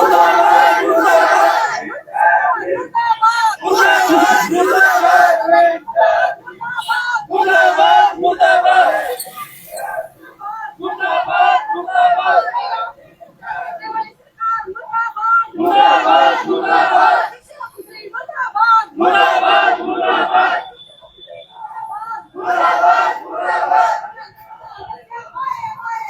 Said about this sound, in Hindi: यहाँ भी हजारों की संख्या में छात्र छात्राएं पहुंचे हैं